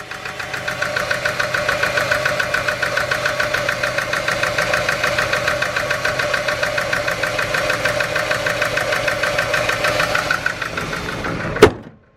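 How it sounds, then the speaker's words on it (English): SN95 Mustang budget project car with its engine running rough: a steady, close, uneven knocking idle that pulses throughout, then shuts off with a sharp clunk near the end, no talk. "yeah, she's running a little rough."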